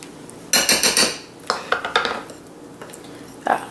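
A spoon scrapes and clinks against a bowl while orange juice and powdered sugar glaze for cranberry orange shortbread is stirred: a quick burst of several sharp taps, then scattered scrapes and knocks, close and fairly loud.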